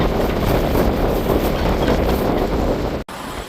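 Loud wind buffets the microphone outdoors beside a semi truck with a constant roaring rush, cut by a brief dropout near the end.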